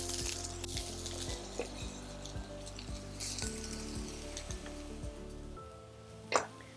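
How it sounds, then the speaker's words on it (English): Onions dropped into hot oil for a tomato white bean soup, with a faint steady sizzle under a low humming background and a few small clinks, ending in one brief sharp knock. "So now my oil's hot. Let's get our onions inside."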